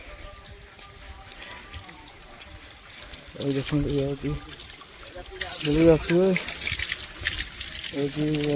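Waterfall water pours steadily at a Saptasajya hill shrine in Dhenkanal, a continuous broadband rush running throughout while people talk over it at close range.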